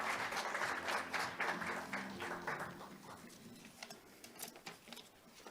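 An audience at the opening ceremony of an international conference on employment and labor welcomes the vice-chairman of the Jobs Committee to the stage with applause, strong at first and then thinning into scattered claps.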